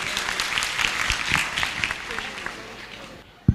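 A lecture-hall audience breaks into dense, steady applause for a good question. The clapping stays continuous and fairly close, eases toward the end, and finishes with one sharp thump.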